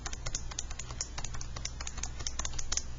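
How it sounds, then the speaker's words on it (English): Fingers press the keypad of a calculator, making rapid, close clicking taps in an uneven rhythm that runs steadily for several seconds, heard alone without speech. "I can type."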